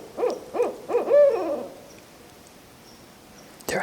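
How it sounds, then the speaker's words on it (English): An owl hoots four times in a quick rhythmic series from a tree close overhead on a rural woodland walk, the calls strong at first and then fading into quiet, with a brief rustle at the end. "So the owl has flown directly above me."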